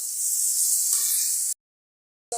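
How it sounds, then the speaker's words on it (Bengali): Small shrimp frying in a pan give off a bright, hissing sizzle that runs for about a second and a half and then cuts out. "বেছে রাখা চিংড়ি মাছগুলো দিয়ে একটু ভালো করে ভেজে কষে নিতে হবে"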